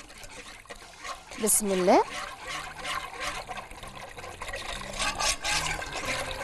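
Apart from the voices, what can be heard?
pouring milk into butter and flour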